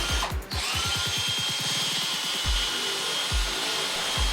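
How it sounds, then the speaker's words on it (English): A power drill runs in reverse, its chuck clamped on a mattress's helical spring wire as it unscrews it, whirring steadily with a rapid rattling clatter of the wire and a few separate knocks near the end. "I just tightened the chuck down around the wire, threw it in reverse, hit the trigger"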